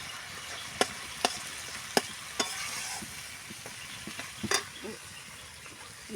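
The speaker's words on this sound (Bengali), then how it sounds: "আমি একটু সামান্য জল দিয়ে দেবো। মশলাটা কষে নেব।" A spice masala made with Kashmiri chilli powder and green chilli paste, sizzling in a pan while being stirred, with soft crackle and a series of sharp spoon scrapes and clinks against the pan.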